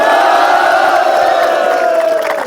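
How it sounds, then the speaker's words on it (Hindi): Army Agniveer trainees and onlookers clap and cheer loudly as a group, a dense close roar with rising whoops. "जोर से ताली एक बार।"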